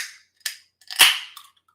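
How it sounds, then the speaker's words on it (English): A beer can is cracked open up close: a sharp click, then a louder pop and hiss of escaping gas, fading quickly into silence. "I'm going to crack open this beer"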